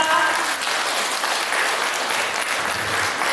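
Audience applause for a women's studies lecturer at a district women's committee lecture, dense and steady clapping filling the room throughout.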